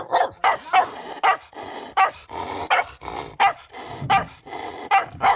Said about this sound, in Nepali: यो घरमा चाहिँ सेतो खालको कुकुर छ कि अहिले पनि मलाई देखेर डन्जर भुक्छ